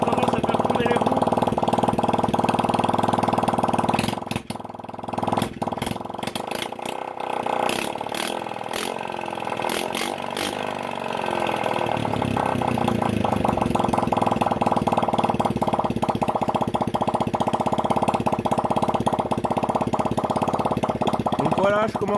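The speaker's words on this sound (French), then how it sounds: "comme vous pouvez l'entendre, le moteur il tourne" A Chinese 50cc quad engine idles with a continuous buzzing drone and uneven hiccups, running close by while someone talks over it.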